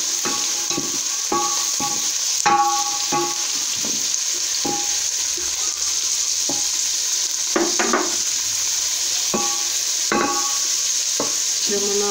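Onion frying on a stove gives a steady, loud sizzle that runs the whole way through, with scattered clicks and scrapes of stirring throughout.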